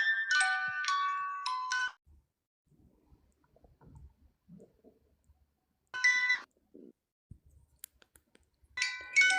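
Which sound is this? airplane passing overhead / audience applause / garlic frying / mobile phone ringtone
mobile phone ringtone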